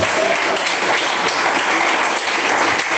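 A church congregation applauds during a sermon, with dense, loud, continuous clapping that fills the whole moment.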